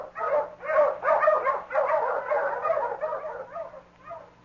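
A dog barks and yips in an old-time radio drama, several quick excited barks in a loose rhythm with a few whimpering notes, close and fairly loud, with no talk over them.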